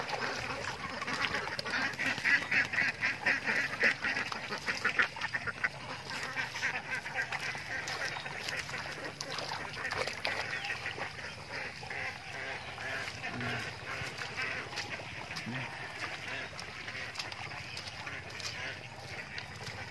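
A flock of ducks, let out onto a harvested rice field to feed on leftover grain, quacks continuously in a busy overlapping chorus outdoors.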